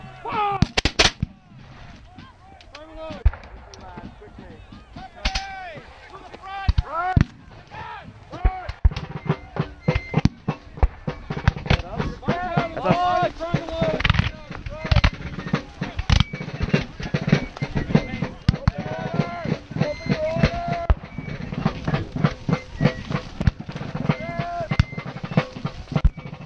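Musket volleys and scattered flintlock shots crack sharply at a Battle of Monmouth reenactment, loud irregular reports near and far over shouted commands and talk.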